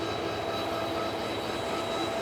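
A train in Malaysia with a big cast iron plate, rolling steadily on rails at close range, giving a continuous low rumble with a faint sustained squeal and no voices.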